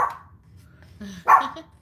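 A dog barks twice in close range, a short yap followed by a louder, sharper bark, with quiet pauses around them.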